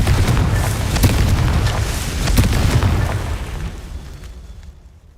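Confringo blasting spell exploding in Hogwarts Legacy, a loud rumbling boom with sharp crackling bursts that rolls on for several seconds before fading away to quiet.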